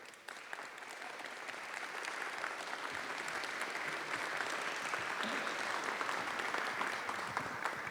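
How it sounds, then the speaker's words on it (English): A theatre audience at an economy forum in Bari's Teatro Petruzzelli breaks into sustained, dense applause that swells and holds for several seconds, filling the hall. "please give him a big round of applause"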